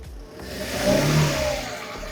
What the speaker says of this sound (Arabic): دوس كده بنزين